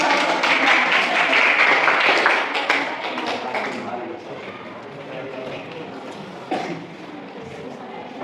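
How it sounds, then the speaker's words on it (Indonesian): Audience clapping after a group presentation in a teacher training session, dense and steady in the first seconds, then thinning into a looser patter of scattered claps and room noise. "Oke, kasih aplaus."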